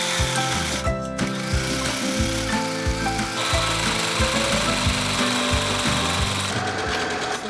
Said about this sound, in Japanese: 脇を縫おう。